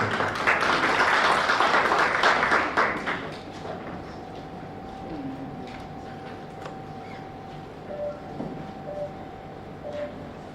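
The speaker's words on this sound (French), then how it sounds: "sous vos encouragements et applaudissements, s'il vous plaît" Audience applause at a university talk competition, loud clapping for about three seconds that then fades to scattered claps over a quiet room with a faint steady tone.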